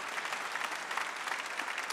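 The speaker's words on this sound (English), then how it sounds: "would you give God a hand clap of praise" A church congregation claps in praise, a dense, even burst of many hands filling the room at moderate volume, steady for the whole moment with no voices standing out.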